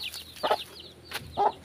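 Ducks on a farm in the Philippine countryside give two short, clucking quacks about a second apart, fairly close and clear against quiet outdoor background.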